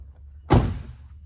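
A car door swings shut with a single solid, close thunk that fades quickly into a quiet background.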